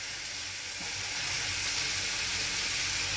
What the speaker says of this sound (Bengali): লাউটা কষানো হয়ে গেছে, এখন ঝোল দিয়ে দেবো। ঝোলটা দিয়ে দিলাম।